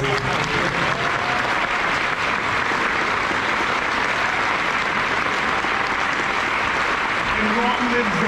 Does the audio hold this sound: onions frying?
no